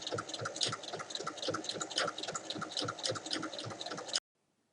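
A sewing machine topstitching fabric 1 mm from the edge, a fast steady rhythmic chatter of needle strokes close up, running continuously before stopping abruptly into silence, no speech.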